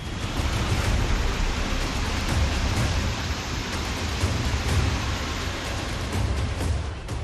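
Heavy monsoon rain pouring down during flooding in Bundi, Rajasthan, a dense steady roar of rainfall with no breaks and nobody speaking.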